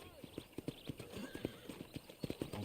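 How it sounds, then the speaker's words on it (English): Quick, rhythmic hoofbeats of a galloping horse in a video game clatter steadily and close up, with a brief whinny-like tone in the mix. "let's see if you can still ride a horse"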